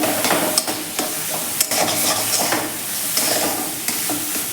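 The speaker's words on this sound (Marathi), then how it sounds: "हे व्यवस्थित मिक्स करून घेऊयात आपण" A batasha and coconut barfi mixture with milk and ghee bubbling in a pan, stirred with brisk scraping strokes over a constant sizzle, close up and with no voices.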